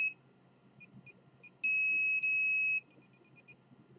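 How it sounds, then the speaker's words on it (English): A detector gives several short electronic beeps, then a sustained loud tone when a hand is placed on it, followed by a quick run of rapid beeps. "So I'm going to put my hand on this detector"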